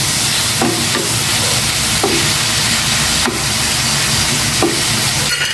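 Garlic frying in hot cooking oil for pork binagoongan gives a steady, close sizzle and crackle with occasional stirring clatters, no voices.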